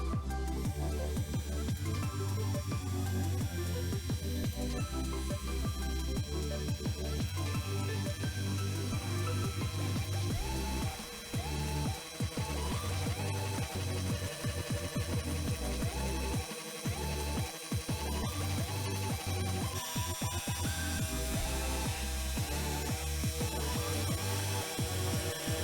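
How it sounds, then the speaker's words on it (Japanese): An inexpensive Amazon-bought CNC milling machine cuts carbon-fibre reinforced plastic, drilling, chamfering and profiling, giving a steady, continuous mechanical whir and grinding drone with a few brief dropouts, running alone without talk. "CNC フライスがあっちの方で頑張って削ってくれている間に"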